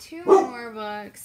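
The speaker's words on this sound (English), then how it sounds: "That's my dog." A dog barks once sharply, then gives a drawn-out whining yelp, close by, while a person speaks over it.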